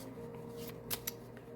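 Tarot cards riffled and shuffled by hand during a reading, a soft papery rustle with two sharper flicks near the end, close and fairly quiet over a steady low background hum.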